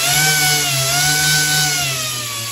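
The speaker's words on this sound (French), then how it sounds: "Prochaine étape, le ponçage." A power sander works steadily over a 3D-printed saddle, removing the printed surface grain with a loud, continuous whine that holds an even pitch and eases slightly toward the end.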